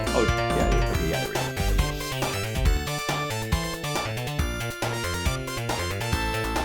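Upbeat Emerald Hill Zone music from the Sonic 2 video game, a bright, bouncy synthesized melody over a driving bassline and drums, playing continuously and fairly loud with no voices over it.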